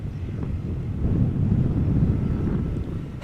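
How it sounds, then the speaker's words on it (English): A strong crosswind at Amsterdam Schiphol Airport roars steadily and loudly into the microphone, producing a constant low buffeting rumble that lasts throughout. "At the moment, the wind is blowing with almost 20 knots."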